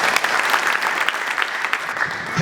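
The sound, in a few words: congregation clapping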